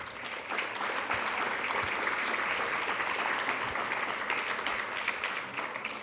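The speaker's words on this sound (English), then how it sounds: "let's give them an in-person and virtual round of applause for their support" A room full of guests at a Jewish community center charity dinner gives a steady round of applause, a dense, even wash of clapping that holds for several seconds and then begins to thin.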